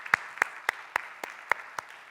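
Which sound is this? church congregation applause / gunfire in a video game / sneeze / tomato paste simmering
church congregation applause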